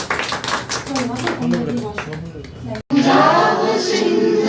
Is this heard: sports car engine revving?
no